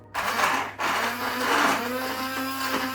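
An electric kitchen mixer whirs steadily and fairly close, its motor hum briefly cutting out once and starting again, with a sustained buzzing drone throughout.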